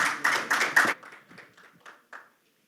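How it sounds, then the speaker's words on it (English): A conference audience gives a short burst of applause for a speaker, a few loud clustered claps that quickly thin into scattered, fainter claps before falling silent. "Please welcome him with a big round of applause."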